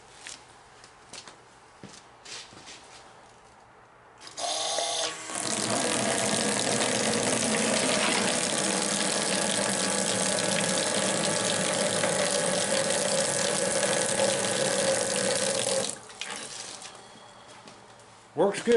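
A drag car's fuel pump pushes fuel into a tub, a steady rushing gush lasting about ten seconds after some quiet handling noises. It cuts off cleanly and small clatters follow.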